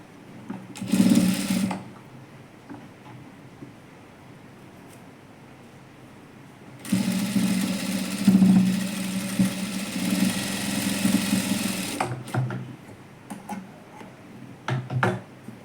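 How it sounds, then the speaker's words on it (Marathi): Sewing machine stitching the lining and main fabric of a princess-cut blouse with cups, running in two bursts, a short one and then a longer steady run of about five seconds, loud and close with no talking. "इथे डायरेक्ट त्याच्यावर शिलाई मारून घ्यायची"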